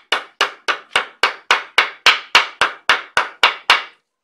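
Thirteen sharp, evenly spaced hammer blows ring out on a thin folded metal plate being flattened for a homemade kite-spar gauge, each strike loud, close and bright with a quick decay, no talking.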